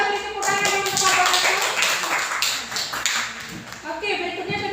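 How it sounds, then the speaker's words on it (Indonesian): A classroom group claps together for fellow students, a dense burst of applause lasting several seconds with a voice talking over part of it. "Mari kita beri tepuk tangan untuk kelompok"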